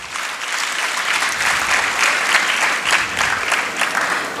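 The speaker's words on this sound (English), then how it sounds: "Dear delegates, please welcome all our presenters with a warm round of applause." Conference delegates give paper presenters a warm round of applause at a chartered accountants' knowledge session, a dense, steady crowd clapping that holds for several seconds with no talk over it.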